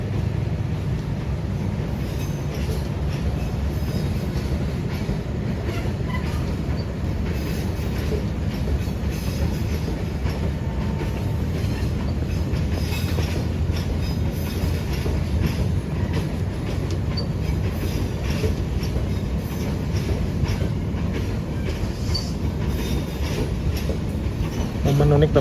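Brawijaya passenger train with full executive coaches rolls past in Bandung, a continuous loud rumble with rattling wheels and clattering carriages throughout, with voices faintly underneath.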